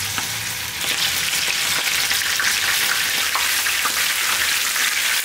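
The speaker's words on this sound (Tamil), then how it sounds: "இதை வந்து கொஞ்சமாக எடுத்து ஒவ்வொன்றா எடுத்து எண்ணெயில் போட்டு பொறிச்சு எடுத்துக்கலாம்." Marinated prawns fry in hot oil for biryani, a steady close hiss of sizzling and popping spatter that runs unbroken throughout with no talking.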